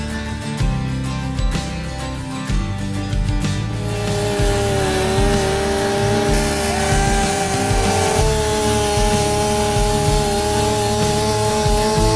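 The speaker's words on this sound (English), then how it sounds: "Using the chainsaw was awesome." A chainsaw runs loudly and steadily, its engine pitch shifting as it bites into a tree trunk, close by and continuous, without speech.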